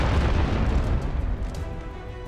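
Ship cannons fire in the naval video game Abandon Ship, a heavy low boom that rolls on into a rumbling decay, loud and close with no talk over it.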